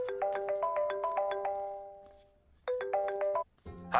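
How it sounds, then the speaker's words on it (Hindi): A phone ringtone plays a repeating electronic melody of bright tonal notes in two bursts with a short gap between them, loud and close, in a scene from a Hindi-dubbed South Indian film. "राजू भैया, आपको किसी का फोन आ रहा है।"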